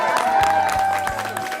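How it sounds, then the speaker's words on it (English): Crowd at the RBC Race for the Kids charity event clapping and cheering loudly for the organizers, with whoops and voices mixed into the steady applause. "Give yourselves a big round of applause, first of all."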